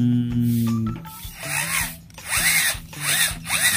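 A power drill bores a small pilot hole into a metal control module box for a used-oil stove, with whirring bursts rising and falling in pitch, several short runs close by and no talk.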